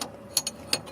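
A wrench on a fuel filter fitting of a Porsche 944 gives three quick, close metallic clicks, sharp and ratchet-like, against a quiet garage background.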